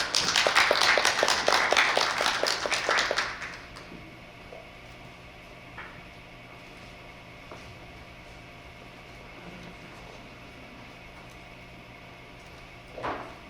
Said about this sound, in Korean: 따뜻한 환영의 박수 부탁드립니다.